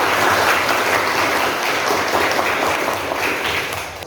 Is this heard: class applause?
yes